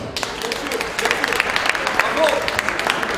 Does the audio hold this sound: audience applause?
yes